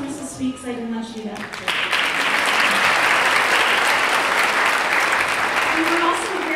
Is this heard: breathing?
no